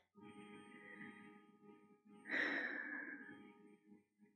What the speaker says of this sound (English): I'm going to take one more deep breath in